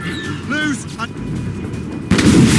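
Mortar fire from a ship in the video game Assassin's Creed Rogue: a heavy booming blast bursts in near the end over game music and shouted voices, loud and close.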